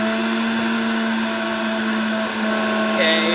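A Breville juicer runs continuously while juicing celery, a loud steady motor whine with a rise in pitch near the end. A brief voice can be heard under the motor.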